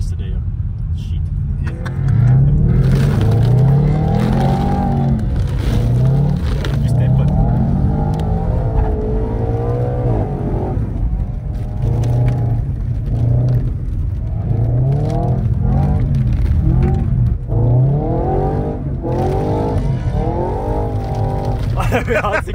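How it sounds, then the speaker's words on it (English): Two Audi RS4 winter cars slide sideways through snow in tandem, engines droning and revving loudly and steadily throughout with rising and falling pitch, close by, while a voice talks over them. "Sliding two Audis in the fucking snow."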